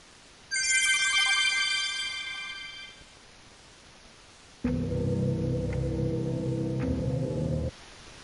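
A telephone rings with a bright electronic ringtone that fades out, then a lower, steady ringing tone sounds for about three seconds, close and alone with no talking.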